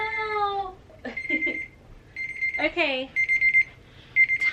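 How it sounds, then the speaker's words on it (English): A timer alarm beeps repeatedly in short electronic bursts during home cleaning, interrupted by a voice and a loud exclaimed cry, then the beeps resume in quick pulses. "my timer just went off"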